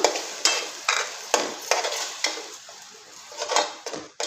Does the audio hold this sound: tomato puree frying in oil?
yes